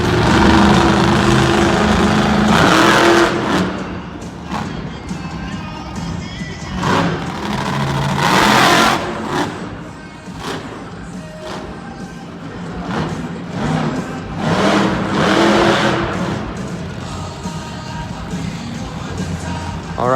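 A monster truck engine revving at an arena show in Winnipeg: loud repeated throttle blips and sustained roars rising and falling over about twenty seconds, with an announcer talking over it and crowd noise beneath.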